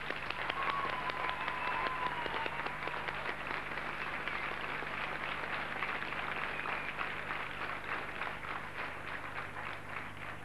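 Sustained applause from a large audience at a 1991 Icelandic secondary-school song contest, a steady roar of many hands clapping that fills the whole stretch at an even level, with a faint voice or whistle briefly rising early on.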